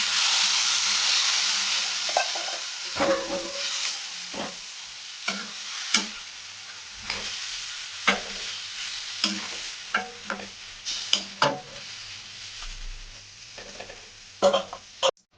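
Water is added to a pan of cooking chaltae (elephant apple) pickle, giving a steady close sizzle with scraping stirs and occasional utensil knocks throughout.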